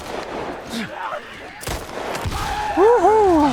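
Gunfire in The Last of Us Part I, with a sharp shot cutting through mid-clip amid game sounds and a player's voice talking over the action.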